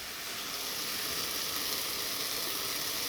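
Pounded dried shrimp sizzles steadily in a hot pan as it is sautéed, a continuous close, bright frying hiss with no pauses.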